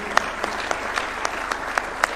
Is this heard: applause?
yes